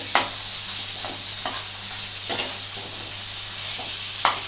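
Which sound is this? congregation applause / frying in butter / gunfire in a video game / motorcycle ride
frying in butter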